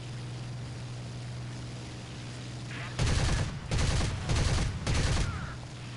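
Bf 109 K4 cannon and machine guns firing in a flight combat video game, four loud rapid bursts in close succession over a steady drone of the aircraft engine.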